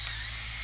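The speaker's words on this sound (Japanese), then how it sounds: "ドリルで痛々しいやつ" A high-pitched mechanical drill whine from the video game RoboCop: Rogue City, steady and continuous over a low electrical hum, heard alone and close in one brief burst.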